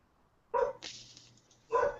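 A pet dog barks in the background indoors, two or three short distinct barks spaced apart with quiet between, moderately loud, with no talking over them.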